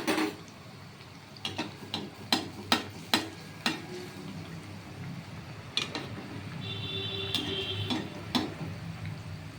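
Yogurt malpua batter frying on low heat in a pan gives a faint, steady sizzle, broken early by a run of sharp ladle taps and clicks, then a few scattered knocks, close and quiet with no talking.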